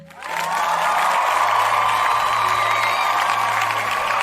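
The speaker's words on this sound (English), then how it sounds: "Round of applause." A round of applause breaks out with cheering and whoops from a crowd, rising quickly and holding loud and steady throughout.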